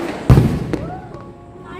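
One loud Diwali firecracker bursts with a sharp bang at night, followed by a smaller pop and faint whistling rockets trailing off in the distance.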